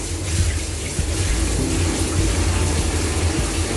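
Water gushes steadily into a cooking pot to set up a double boiler for melting soap, a loud continuous close-up pour with a low rumble.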